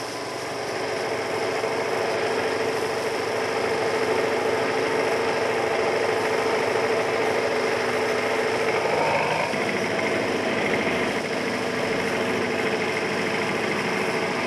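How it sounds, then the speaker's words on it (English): A Blackwood Hodge light tractor-mounted shovel runs its engine at a colliery during coal board dumper trials, a steady, continuous mechanical drone throughout with a slight shift partway through. "Blackwood Hodge demonstrate a light tractor-mounted shovel."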